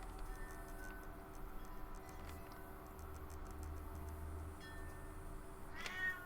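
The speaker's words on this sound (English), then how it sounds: "he's decided he's going to sit on the back of the husband's computer chair and just meow his head off" A house cat perched on the back of a computer chair meows over a steady indoor hum, its calls fairly faint and spaced apart, with a louder one near the end.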